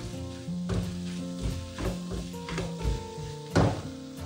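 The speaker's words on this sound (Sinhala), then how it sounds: "දාගෙන තව විනාඩියක් විතර මේක හොඳට පොඩ්ඩක් ඩ්‍රයි ගතියට එනකන් හොඳට කලවම් කර කර මේ කොත්තුව හදා ගන්න ඕනේ" Chicken kottu roti with leeks is stir-fried over high heat, with crackling sizzle broken by repeated metal clanks and scrapes in an uneven rhythm.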